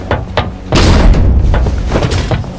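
Heavy thuds and a sustained loud crashing rumble as a door is broken through in the horror video game Bite by Night, a few sharp knocks leading into the louder impact noise.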